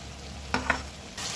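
Spice paste and chopped tomato sizzle in a pan for a mutton curry, a soft steady frying hiss with a couple of brief stirring scrapes and a brighter burst of sizzle near the end, fairly quiet throughout.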